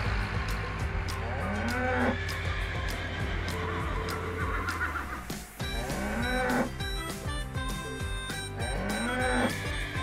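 Cattle on a farm moo repeatedly in long, drawn-out calls, joined by horses neighing, all close and steady over ten seconds with no talking.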